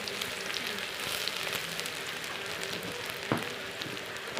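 Sliced onions hitting very hot oil in a pan, a steady dense sizzle and crackle that holds evenly throughout with one sharper pop near the end, no talking.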